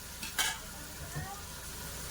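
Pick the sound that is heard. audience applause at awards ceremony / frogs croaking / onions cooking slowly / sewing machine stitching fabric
onions cooking slowly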